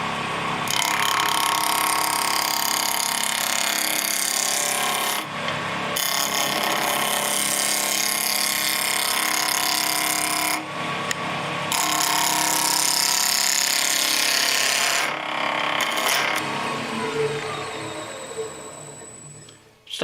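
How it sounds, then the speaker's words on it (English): Spindle roughing gouge cutting wood on a lathe: a loud, continuous, rough shearing roar that cuts out briefly a few times as the tool lifts off, then fades at the end. "this again is a spindle roughing gouge cut, and off we go"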